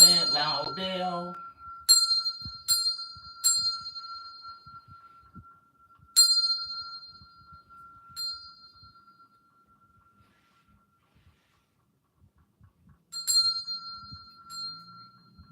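A bell rings out loudly several times with clear, lingering tones, each strike ringing on before fading, with pauses between strikes and a brief voice at the start.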